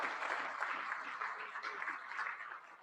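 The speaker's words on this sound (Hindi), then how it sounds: "तो मैं चाहता हूं कि एक बार ताली से दोनों का स्वागत भी कर दें।" An audience at a panchayat governance conference session claps to welcome two speakers, a faint, dense, even patter that tapers slightly at the end.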